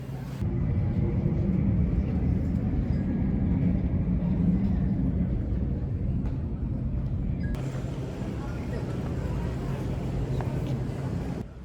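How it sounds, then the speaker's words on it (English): A steady, loud jet-engine roar of airplanes taking off near an airport fills the scene, continuous and unbroken with a slight shift in tone partway through. "A lot of planes taking off over there."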